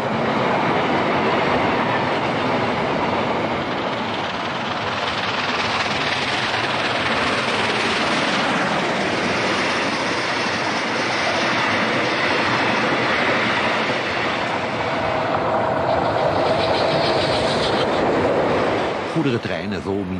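Freight trains carrying minerals on the Zambezi Express line through southern Africa roll steadily along the rails, a loud, continuous rumble and clatter of wagons lasting the whole stretch without a break.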